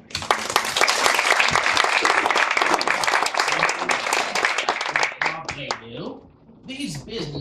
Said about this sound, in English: give these fine people a much-deserved round of applause